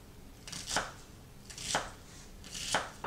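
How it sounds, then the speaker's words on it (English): Knife chopping slices of red onion on a cutting board, three crisp strikes spaced about a second apart, close and fairly quiet with soft rustling between. "I'm just going to cut the slices"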